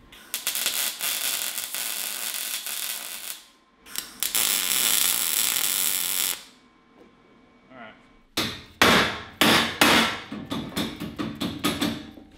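Loud bursts of grinding give way to a series of sharp, ringing blows from a rubber hammer beating metal on a 750cc cross kart control arm, irregular and close.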